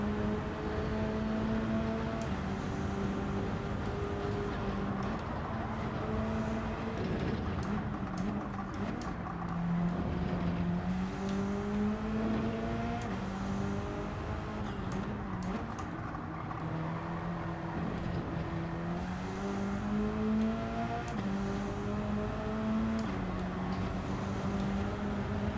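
A Subaru BRZ engine revs and shifts in Gran Turismo 7, its tone climbing through the gears and dropping at each upshift in a repeating pattern, loud and continuous.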